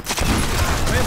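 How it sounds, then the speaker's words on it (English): Gunfire in a multiplayer match of the video game Sniper Elite 4, a loud, dense burst of shots packed into about a second with no pause between them. "Stop shooting at me!"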